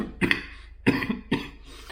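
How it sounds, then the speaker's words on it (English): Three short, dry coughs from one person close by, spaced about half a second apart, with quiet pauses between them. "The cough's still not gone, but it's getting better."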